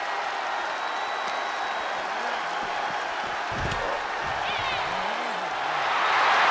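A video-game arena crowd in WWE 2K23 roars and applauds steadily through an iron man wrestling match, swelling louder toward the end, with a commentator's voice and ring impacts over it.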